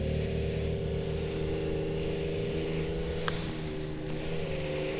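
A Grand Touring Limited 900 Turbo snowmobile engine running steadily nearby, a constant droning hum with a brief faint click partway through and no speech.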